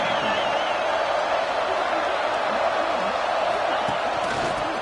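Stadium crowd at an Ole Miss versus USC college football game, a steady, loud, dense roar of cheering that fills the whole stretch without letup, with a commentator's voice running over it.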